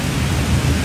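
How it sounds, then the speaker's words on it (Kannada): Rain falls outside a house in a broad, steady hiss, loud and continuous with no breaks and no voices over it. "ಕ್ಲೈಮೇಟ್ ಚೆನ್ನಾಗಿದೆ, ಮಳೆ ಬರ್ತಿದೆ."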